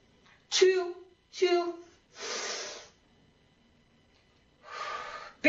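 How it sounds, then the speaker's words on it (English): Deep exercise breathing during a group workout class: several loud inhales and exhales in sequence, with two voiced, gasping breaths followed by longer breathy hisses, near and alone with no talking. "Big deep breaths, everybody breathing deeply."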